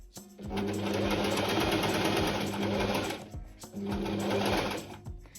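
A sewing machine stitching a seam along a marked line on a summer top, running in two steady bursts of rapid whirring and clatter with a short pause between them, close and clear.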